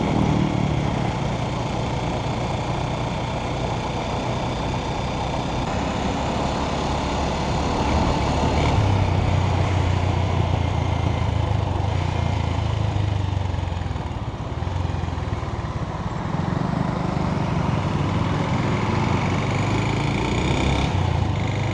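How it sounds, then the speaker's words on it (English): Lorries rumble past on a road in Nepal, a steady broadband engine drone with heavier passes swelling in the middle, loud and continuous without any talk. "Lorries just do what they like, man."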